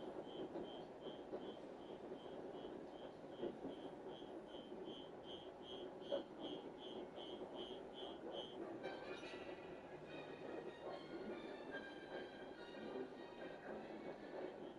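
A subway train in a WWE 2K26 video game rumbles steadily at low volume, with a repeating high beeping signal that stops partway through, and no talking.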